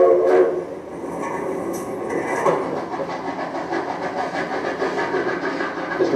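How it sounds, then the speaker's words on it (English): The Durango and Silverton Narrow Gauge Railroad, a historic Colorado train, rumbles and clatters along the track with a steady rhythmic wheel beat, a brief high horn or whistle early on, heard fairly close and continuous. "The Durango and Silverton Narrow Gauge Railroad."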